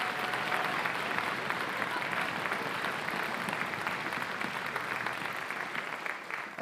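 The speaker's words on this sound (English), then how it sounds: "Give them a round of applause." Audience at a school band concert giving a sustained round of applause, dense steady clapping from a crowd with no talk.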